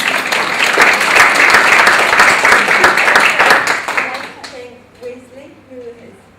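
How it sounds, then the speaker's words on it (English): Audience applause after an evening presentation, dense steady clapping for about four seconds that then fades out, with voices talking quietly as it dies away. "I'd like to give a round of applause to Brenda for the great job."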